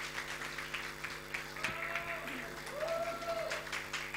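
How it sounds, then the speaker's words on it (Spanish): An audience at a summer school gathering gives a faint, scattered round of applause, soft claps continuing steadily in a quiet room with a low hum underneath. "Le damos un aplauso para que iniciemos hoy día."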